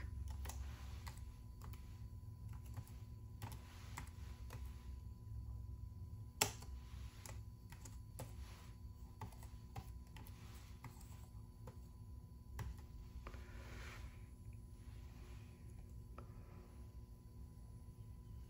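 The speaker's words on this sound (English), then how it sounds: "so let me type this in real quick" Quick computer keyboard typing as a job name is entered during a fire alarm panel upgrade from a 4100U to an ES system, faint clicking bursts over a steady low hum, with no one talking.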